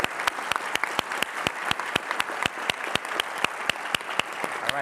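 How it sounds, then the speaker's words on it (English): An audience applauds at a conference keynote. A dense wash of clapping fills the room, and one close pair of hands beats out a steady, regular clap above it. "everyone give her a round of applause"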